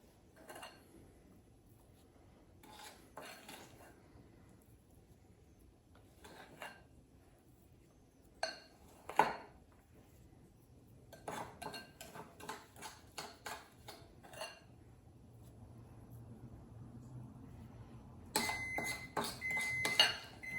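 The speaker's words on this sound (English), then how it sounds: "I'm gonna dollop my mixture by the spoonfuls on top of my cake mixture" Soft clinks and scrapes of a spoon dolloping cinnamon roll topping mixture onto cake batter in a kitchen, scattered taps, with a busier clatter of utensils toward the end.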